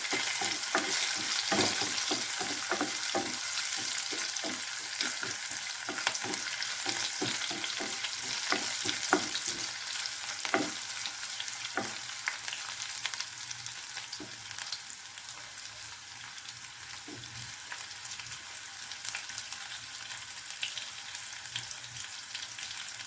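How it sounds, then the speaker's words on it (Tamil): Crushed garlic fries in oil for poricha rasam, giving a steady crackling sizzle with scattered spatters and a few sharp stirring clicks of a spoon against the pan, close and continuous throughout. "இடித்த பூண்டு கொஞ்சம் நல்லா இந்த எண்ணெயில் வணக்கிடலாம்"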